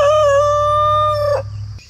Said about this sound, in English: The chickens are super excited because this means I'm gonna make some bugs mad.